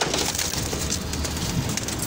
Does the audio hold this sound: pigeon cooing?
yes